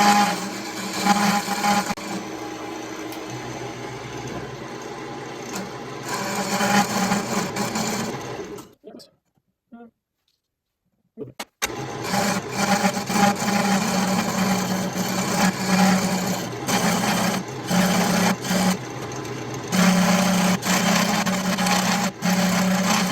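A wood lathe spins a log being turned into a wand, giving a loud, steady rough buzz of chisel against wood that drops out briefly midway, then resumes with rapid scraping.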